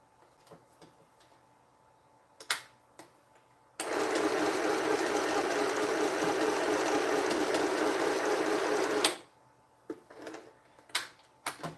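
A sewing machine stitches a quilt in a loud, steady burst of about five seconds. Quiet clicks and handling noises come before and after it.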